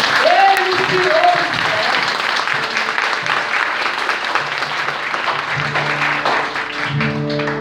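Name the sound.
congregation applauding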